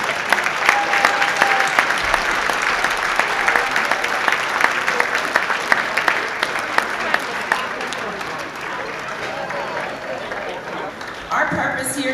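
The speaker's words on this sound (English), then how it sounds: "give them a round of applause" A room full of fundraiser guests at a black-tie dinner in Denver applauds volunteers, dense sustained clapping close and loud, fading briefly near the end before picking up again, with a voice speaking over it.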